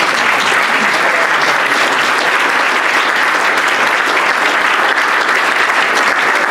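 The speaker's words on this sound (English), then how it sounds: "Can we give a round of applause?" A crowd at a Rotary meeting claps loudly and continuously, sustained applause filling the room without a break.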